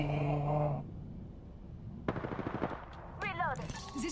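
Gunfire in the battle royale game Apex Legends during a ranked match: a few sharp shots and short bursts in the second half, moderately loud, with game voice lines and chatter around them.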